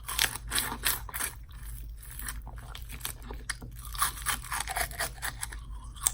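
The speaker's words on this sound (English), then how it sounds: "Crunch it all the way down as far as you can, and then eat it like a slush" Frozen Otter Pop ice is crunched and chewed up close, with repeated crisp, crackling bites and grinding chews in an uneven rhythm and no talking.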